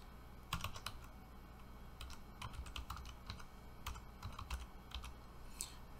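A bucket name is typed on a computer keyboard, a quiet run of irregular key clicks in short bursts, close and soft, with no talking.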